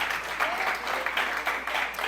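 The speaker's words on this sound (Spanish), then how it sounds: "Denle un aplauso a Jesús en esta noche." A church congregation at a Spanish-language evening service claps together, a dense, even patter of many hands that carries on steadily for a couple of seconds.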